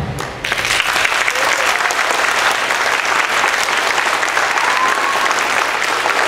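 Sustained, loud applause from a live audience at an outdoor band concert with a trombone player, a dense wash of clapping hands that begins abruptly and holds steady at full strength for several seconds.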